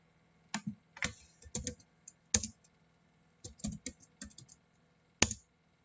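Typing on a computer keyboard to enter a router enable command and password, bursts of quick close key clicks separated by short pauses, ending with a single sharper keystroke.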